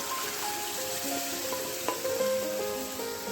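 Cooked dal khichdi poured into a hot, freshly fried tempering, giving a steady, moderately loud sizzle with faint melodic tones underneath.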